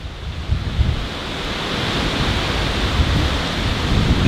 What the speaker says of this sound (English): Wow, hold on, I gotta wait for this wind to go by.